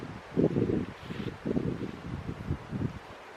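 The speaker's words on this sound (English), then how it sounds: "is it really windy on the camera?" Gusts buffet a camera microphone outdoors at a camp, producing low rumbling bursts that swell and fade in uneven pulses, fairly close and moderately loud, with no speech.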